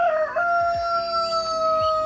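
A rooster named Tammy on a chicken farm crows once, a loud, near, drawn-out call with a strained tonal wail, alone without talk.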